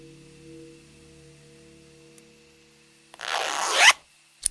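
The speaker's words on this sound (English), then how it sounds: "The zipper on this cushion's stuck." A cushion zipper in the adventure game Tesla Effect: A Tex Murphy Adventure is pulled open in one quick, loud rasping sweep that rises to an abrupt stop, followed by a brief click, with faint ambient game hum underneath.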